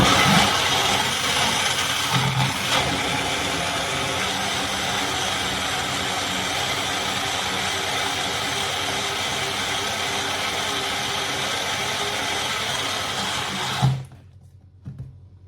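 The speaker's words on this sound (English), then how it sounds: "So I'm going to try and whisk this." Natural yogurt is whisked for a smoothie with an electric whisk, a continuous loud motorized whirr running steadily for about fourteen seconds before stopping abruptly, with a brief faint rattle afterwards.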